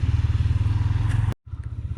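A motorcycle fitted with snow chains rides over a glassy, icy road on a winter trip to Skardu, its engine thrumming steadily and close by with a rhythmic pulse, cutting out briefly before resuming.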